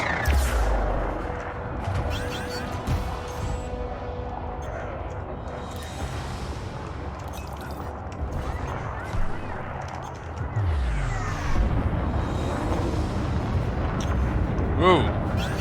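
Point defense turrets on an Elite Dangerous spaceship fire at an incoming missile, a rapid volley of loud cracks and booms over a continuous roar, with a voice talking throughout.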